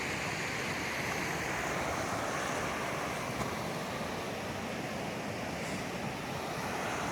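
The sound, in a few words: river flowing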